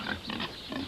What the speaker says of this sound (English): these pigs right here are just a little bit older than the ones we saw in the last pen